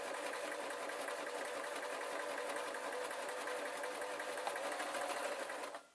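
Sewing machine stitching a leatherette boot sole, a fast continuous whirring rattle heard close and quiet, running steadily before stopping abruptly at the end.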